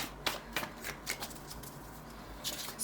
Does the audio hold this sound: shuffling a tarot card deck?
yes